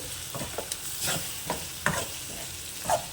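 Brinjal and onion curry is stirred in a pan on the stove, with repeated scraping spoon strokes and soft clinks over a low sizzle, close and fairly steady.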